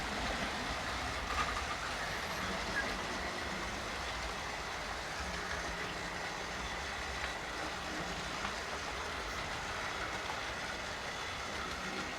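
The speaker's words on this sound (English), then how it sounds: "That's a big train." A large train rumbles past on the Highland Valley Railway in a steady, continuous roar with faint rail clatter, sustained throughout and fairly near.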